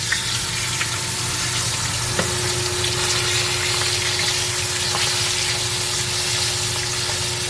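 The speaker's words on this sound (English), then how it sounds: "there we got both pieces of the catfishes now frying" Pieces of catfish fry in a pan with a steady, dense sizzle and crackle, unbroken and fairly loud throughout, with a faint steady whine running underneath.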